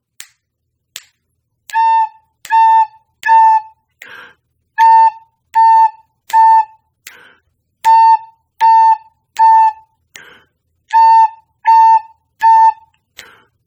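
A recorder plays a simple tune in short groups of three and four detached notes, with sharp metronome clicks ticking steadily between phrases.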